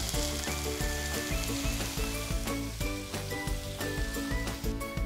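Garlic and onion fry in a pan with a steady close sizzle and crackle that stays dense and even throughout, with no voice over it.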